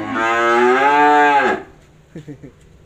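At a cattle farm in Tra Vinh, Vietnam, a cow lets out a loud, drawn-out moo close by, ending in a falling tail, followed by a few short, soft grunting sounds.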